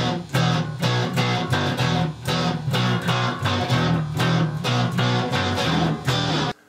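Looped rock-style riff with a guitar line layered over a bass line, repeating in a steady pulsing rhythm, full and loud with no voices.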